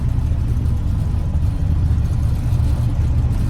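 A Ford F600 truck with a freshly rebuilt steering gear box drives along a gravel road, its mid-pitched engine droning and rumbling steadily and close up, with no one talking.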